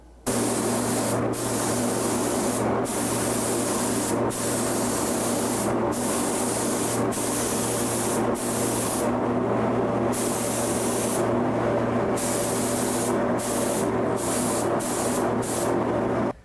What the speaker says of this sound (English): I'm going to spray one more coat